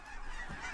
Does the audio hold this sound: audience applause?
no